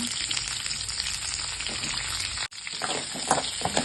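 Onion and green chilli fry in hot oil with cinnamon, cloves, fennel and cumin for a chicken dish, a steady close sizzle with a brief stir and clink partway through.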